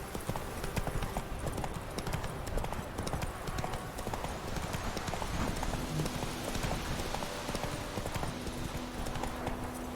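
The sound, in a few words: horse Roach trotting in video game The Witcher 3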